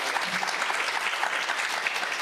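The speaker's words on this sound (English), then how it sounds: "round of applause." An audience claps steadily in sustained applause, moderately loud and even throughout the short stretch.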